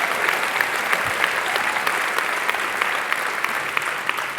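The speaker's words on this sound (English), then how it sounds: "And please give her a big round of applause." Sustained applause from a conference audience, steady dense clapping at moderate loudness with no talk over it.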